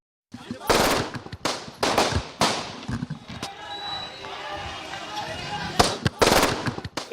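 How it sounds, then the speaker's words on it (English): Gunshots in news footage of a shooting ring out as a rapid burst of sharp, loud bangs, then a lull with a murmuring crowd and talk before another cluster of cracks near the end. "18 bullets fired at Mafia Don Atiq Ahmed and brother Ashraf, killing both on the spot"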